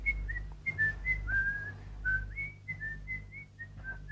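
A person whistles a merry, light-hearted tune, a string of bright sliding notes in a lively rhythm, clear and close over a low steady hum.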